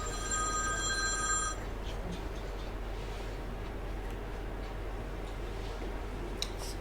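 Mobile phone ringtone chiming briefly in a lecture hall, a faint tonal ring lasting about a second and a half, then low room noise with a few soft ticks.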